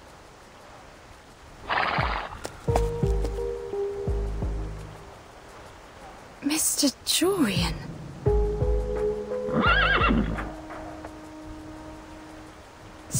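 In the game Reverse: 1999, horse-like animals whinny and neigh in several strained calls set among game sound effects, with a voice speaking between them.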